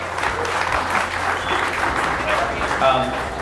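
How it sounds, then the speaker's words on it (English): Steady, dense applause from an audience at a summer Living Proof toast event, holding even and loud throughout with no pauses. "No, applause is appropriate."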